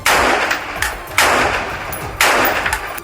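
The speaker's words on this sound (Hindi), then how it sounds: "खिड़की पर बंदूक ताने खड़े इस सैनिक ने कई राउंड फायरिंग की।" Repeated rifle shots fired by a soldier from a building window at a Hamas position in Gaza, three loud sharp bursts about a second apart, each trailing into echoing reverberation.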